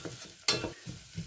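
Butter and shallots sizzle gently in a pot with fennel seeds and peppercorns, with bursts of stirring and scraping and one sharper clatter partway through.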